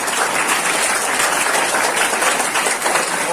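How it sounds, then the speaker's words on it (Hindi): An audience at an Indian poetry day event held at a school in Agra claps in steady, dense applause that carries loudly and evenly from start to finish. "लोग पंडित श्रद्धाराम फिल्लौरी जी के ऑनर में, उनके सम्मान के लिए तालियां बजाएंगे।"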